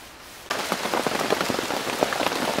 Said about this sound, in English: Nice sign of rain on the tarp again.